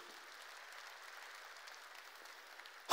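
A church congregation applauds during a sermon: a steady wash of clapping held at a moderate, even level throughout, with a sharp louder burst at the very end.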